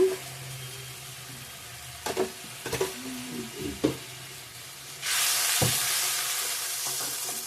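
A mustard and tomato spice paste with onion and salt for a rohu fish curry is stirred in a pan with a few scrapes, then breaks into a loud, steady, close sizzle that continues to the end.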